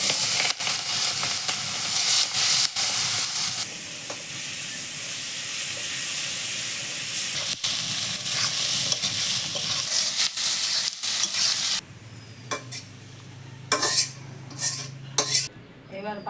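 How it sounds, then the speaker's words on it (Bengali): Sliced onions for beresta hit hot oil in a pan with a loud bright sizzle that is stirred with a utensil scraping the pan, then drop to a quieter crackle with clinking toward the end. "এবার পেঁয়াজ বেরেস্তাটা ভাজবো"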